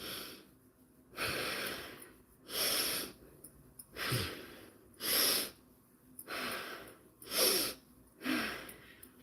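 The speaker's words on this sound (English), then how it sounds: "let's do some nasal breathing with it" Nasal breathing exercise: about six deep breaths drawn in through the nose, each a rushing airy inhale or exhale, evenly spaced and close, with quiet pauses between.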